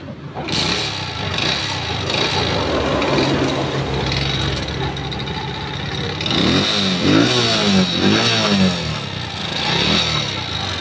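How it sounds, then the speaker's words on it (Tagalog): A motorcycle engine with an abnormal knocking fault runs close by, idling with a rough, rattling beat before several revs rise and fall in the second half. "Kung gaano kalakas yung lagatik at kasama ng tunog ng kanya makina"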